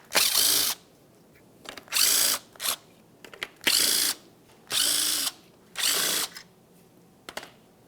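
Power tool spinning off 10mm mounting nuts from a 2006-2012 Ford Fusion grille mounting panel, loud close whirring bursts repeating about six times with brief gaps and faint clicks between, no speech.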